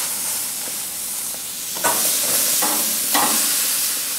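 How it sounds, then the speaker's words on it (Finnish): Pork tenderloin sizzles loudly on a grill outdoors in winter, a constant close hiss with a few sharper bursts of spattering as the meat sears. "niin ei muuta kuin lihat tirisemään"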